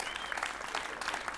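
A concert audience at a jazz festival gives brief, dense applause, an even patter of many hands clapping at moderate volume.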